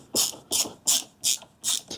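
A ratchet driving a screw back in while installing the battery on a Kawasaki Ninja 300 motorcycle, giving six quick bursts of clicking at an even rhythm, close and clear with no talk.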